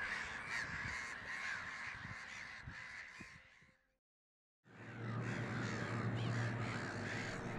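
Black-headed gulls call in a coastal marsh colony at Le Crotoy, a dense chorus of harsh overlapping cries that cuts out briefly in the middle before resuming, with no talking.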